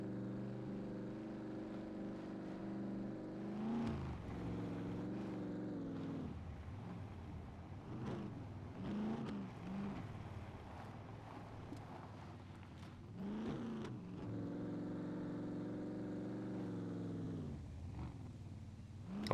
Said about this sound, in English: This car makes a lot more noise when it's